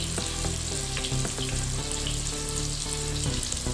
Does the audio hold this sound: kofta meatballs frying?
yes